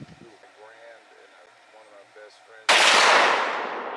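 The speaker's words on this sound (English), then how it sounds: "there has been some proper training involved with the firing of this firearm" A single deafening shot from a .460 S&W Magnum revolver bursts out after quiet talk among people nearby, its blast ringing and slowly decaying outdoors.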